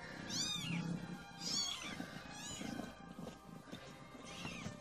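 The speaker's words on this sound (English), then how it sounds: "Would you shut up, kittens? You sound like piglets!" Several kittens squeal and meow in high, rising cries, three loud bursts in the first half and fainter mewing after, close by and carrying over a steady room murmur.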